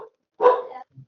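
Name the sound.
dog barking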